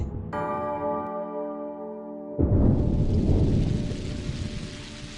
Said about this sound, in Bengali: আবার বৃষ্টি শুরু হয়েছে।